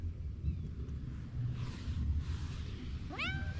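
A whiny cat meows for food with a single clear, rising-and-falling meow near the end, close by, over steady low outdoor wind rumble.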